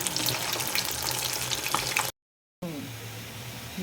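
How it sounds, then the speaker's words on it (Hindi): Fish deep frying in hot oil for a mustard fish dish, a loud dense crackling sizzle close by that cuts out briefly and then resumes with bubbling. "फ्राई हो रही है।"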